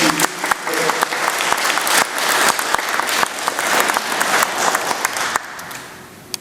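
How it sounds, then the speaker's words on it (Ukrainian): An audience at a Righteous Among the Nations award ceremony in Lviv applauds in honour of Yulia Banko, sustained dense clapping with sharper individual claps poking through, fading slightly near the end. "вшануємо Юлію Банько оплесками"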